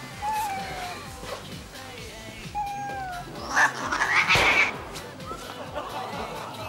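A cat meows and caterwauls in a run of drawn-out, wavering cries, swelling into a louder, strained yowl midway before trailing off, with faint voices and shuffling behind.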